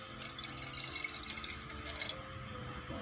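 Water being poured off watermelon seeds in a cup, a soft continuous trickle and splash close by, quiet and steady for about three seconds with no talking.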